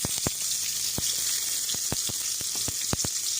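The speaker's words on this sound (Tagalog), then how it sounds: "Mag-gisa na muna tayo ng bawang at sibuyas." Garlic and onion sauté in hot oil in a pan for a pork ribs biryani, a steady bright sizzle with a series of sharp crackling pops scattered throughout, no voices.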